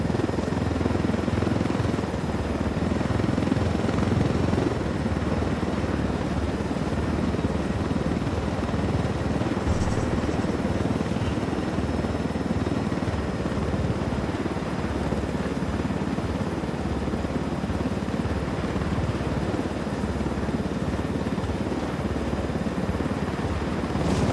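Helicopter rotor thumping steadily through the whole stretch inside Ghost Recon Wildlands, a loud continuous chop with engine drone, no voices.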